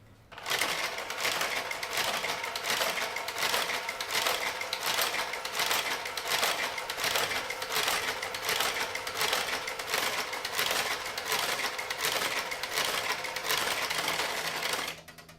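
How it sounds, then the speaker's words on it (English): A Taitexma knitting machine's garter carriage runs steadily for about fourteen seconds, a dense, loud, rapid mechanical clatter of needles and cams with a sewing-machine-like rhythm and no talk. "So I need to reset these needles because the garter carriage will not tolerate needles that are out of place."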